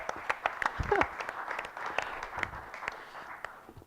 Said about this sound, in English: Round of applause, Bill, come on up.